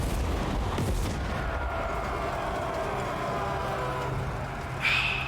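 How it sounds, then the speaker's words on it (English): Cannons fire a barrage on defenders during a battle in a video game, heard as a continuous rumbling roar of distant booms with a few sharper thuds, loud throughout and ending in a brief bright burst. "Cannons fire upon the defenders."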